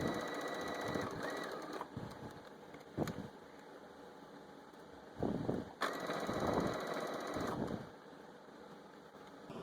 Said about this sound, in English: So when you sew this, because it's in a circle, you do not have to start with a back stitch.